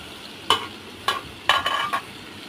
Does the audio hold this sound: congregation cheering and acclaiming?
no